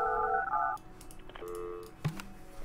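Telephone dialing tones from the management game Project Highrise: a quick series of steady keypad beeps, then a lower tone and a short click, with game ambience faintly underneath.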